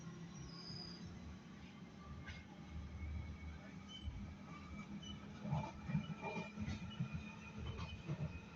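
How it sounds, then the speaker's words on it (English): A London Underground Jubilee line train rumbles past nearby with a low, steady roar and rattling, growing louder toward the end, with faint voices in the background. "there's another train passing by."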